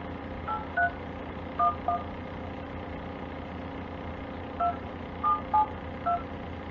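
Several DTMF tones from a telephone dialing a number beep in short bursts, some in quick pairs with gaps between, over a low steady engine-like rumble.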